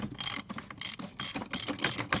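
A ratchet on a swivel extension with a 28mm socket loosens a plug on a 4th-gen Ram Cummins fuel housing, producing rapid close clicking bursts in short strokes with brief pauses between.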